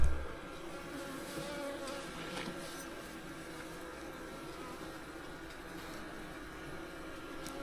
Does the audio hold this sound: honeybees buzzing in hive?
yes